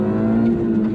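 A Mini pulls away in first gear with a steady engine drone that holds an even pitch, close and continuous, with no wheelspin.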